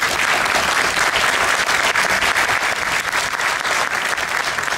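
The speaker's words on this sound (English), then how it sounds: "give him a round of applause" Loud, dense applause from an audience at a courthouse groundbreaking ceremony, continuous close clapping with no talk over it.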